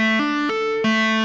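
Distorted electric guitar playing a quick tapped phrase of hammer-ons and pull-offs from a solo, three sharp sustained notes in a row, close and loud with no voices.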